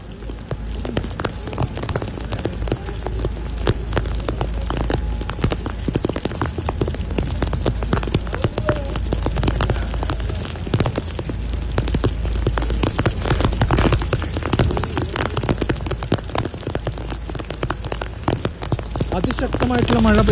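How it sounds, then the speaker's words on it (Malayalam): Heavy monsoon rain pours down steadily at Mundakkai in Kerala's Wayanad during a landslide rescue, a dense, loud, unbroken hiss with close spattering drops that lasts throughout, with a voice faintly present beneath it. "അതിശക്തമായിട്ടുള്ള മഴ പെയ്തുകൊണ്ടിരിക്കുകയാണ്"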